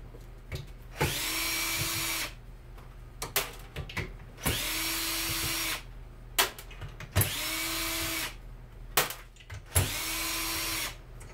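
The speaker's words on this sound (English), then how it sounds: "I need the socket back on. Nut driver, whatever you want to call it." A power nut driver fitted with a socket spins nuts off in a garage: four close, loud whirring bursts of a second or two each, separated by short pauses with light clicks and handling noise.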